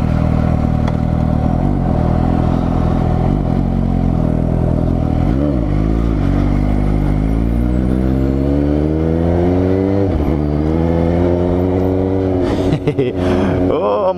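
A Suzuki GSX-S750 motorcycle engine revs loudly and close by, its pitch rising and falling through several throttle blips over a steady rumble, with brief voices near the end.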